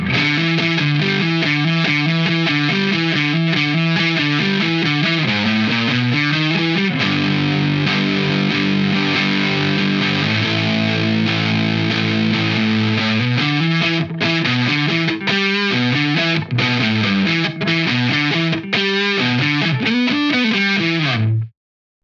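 Electric guitar through a JHS Hard Drive distortion pedal, heavily distorted, plays a continuous riff of sustained chords and chugging notes, loud and saturated throughout with no voices.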